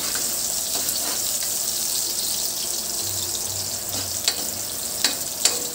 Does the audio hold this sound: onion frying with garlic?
yes